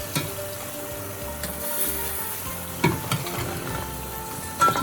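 Tulumba dough puffs fry steadily in hot oil until golden brown and crispy, giving a continuous close sizzle and bubbling with a few louder crackles and spatters and no voices.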